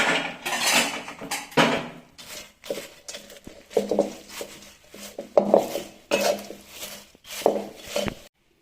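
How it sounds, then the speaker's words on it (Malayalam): A spoon stirring sweetened flattened rice (aval) with coconut oil in a metal pan, giving repeated scraping, clinking strokes in an uneven rhythm, close and fairly loud, no speech. "ഇനി ഇത് നന്നായിട്ട് ഇളക്കി ചേർക്കാം."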